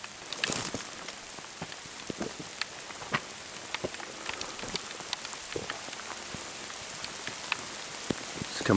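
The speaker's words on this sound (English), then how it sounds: "Started pouring rain on us when we were going to get this dude" Heavy rain pours down at a hunting camp in West Texas, a close, constant hiss of drops drumming on surfaces with scattered sharper splats throughout.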